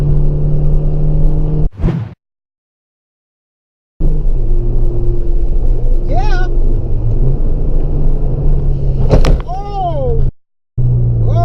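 A 2014 Fiat Abarth hot hatch drones loudly while driving, and its engine rises in pitch through a couple of revs. There are short exclamations from people inside, and the sound drops out briefly twice.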